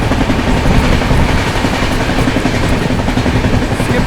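The LTT–Jaynagar Pawan Express approaches on the rails in a loud, steady, continuous rumble, heavy and close, with no speech over it.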